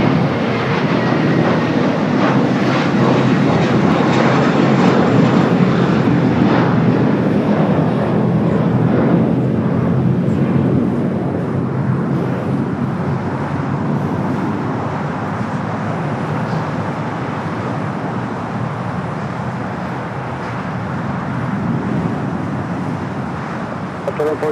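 A Boeing 787 Dreamliner arriving from Toronto at LAX passes as a loud, broad engine roar that swells and then slowly eases off over about twenty seconds, with no talk.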